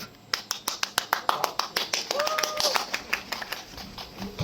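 Concert audience at a guitar school's recital claps in rhythm, steady sharp claps repeating throughout, fairly close, with some murmured talk underneath.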